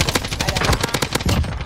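Automatic gunfire in a military shooter game, close and loud rapid bursts of a PKM-style machine gun with a short pause before another burst, no speech.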